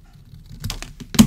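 Paper for a patriotic tag flip book is cut in a few quick crisp snips and rustles, close and fairly loud, ending with a sharper final cut.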